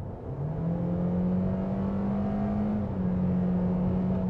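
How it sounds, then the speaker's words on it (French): A 2016 Scion iM in sport mode accelerates hard, its engine note rising smoothly and steadily as heard from inside the car, loud and continuous with no talking. "on passe en mode sport, même pour donner un petit peu plus de punch, mais écoutez bien, vous allez voir, là, on entend vraiment l'accélération"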